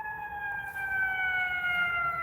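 An ambulance siren wails on a city street as the vehicle passes, a steady sustained tone with harmonics that slowly drops in pitch, loud and fairly close, with no talking over it.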